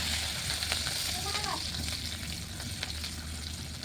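Whole cumin, onion, garlic, ginger and chilli fry in hot oil with a steady, close sizzle and soft crackle, fairly quiet and continuous, broken by a few faint clinks.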